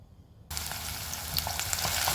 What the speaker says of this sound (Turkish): kavurmaya başladım